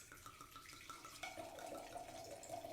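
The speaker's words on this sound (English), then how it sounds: "let's pour the wine and see how we can appreciate it" Petit Verdot red wine pours into a glass, making a soft, continuous trickling and gurgling flow close by that builds slightly as the glass fills, with no talk.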